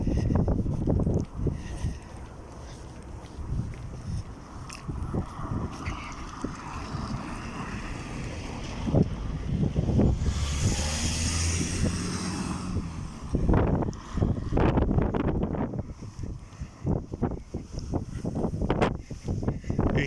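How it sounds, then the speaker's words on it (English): Strong wind gusts buffet the microphone on a small hill on a walking route near El Far d'Empordà on Spain's Costa Brava, a broad, rushing roar that swells and fades, with footsteps and handling noise mixed in. "You hear the wind"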